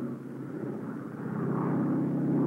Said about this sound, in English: Taxiing at full throttle, the tow planes had to remain on the ground until the ton-and-a-half gliders were airborne.